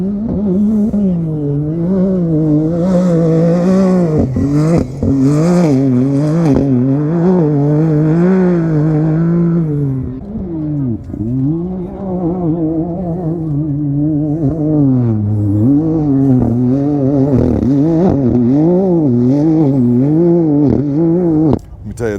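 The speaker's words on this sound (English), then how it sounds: "And they go by here, they're getting it. I think we got one coming right now." Heavily modified UTV side-by-sides race past at King of the Hammers, their engines loud and close, revving and wavering in pitch continuously with one surge after another, no voices.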